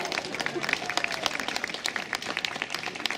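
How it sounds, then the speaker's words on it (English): A crowd at an outdoor protest demonstration in Sheffield applauds, dense continuous clapping at moderate distance with faint voices mixed in. "So a round of applause for Craig."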